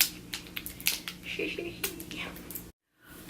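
A new bronzer makeup container is opened, giving a few soft close clicks and rustles with some quiet handling noise, ending in a brief silence.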